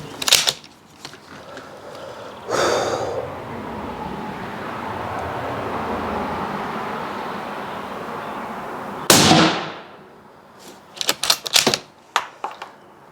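A compact suppressor on a firearm fires Fiocchi ammunition: a few sharp, loud reports with a sustained noisy wash between them, then a quick cluster of crisp cracks near the end.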